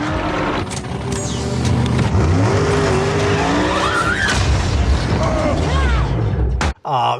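A powerful car's rear tires spin and squeal without grip, a loud screeching burnout laced with engine roar, ending with a brief cut to a short squeal.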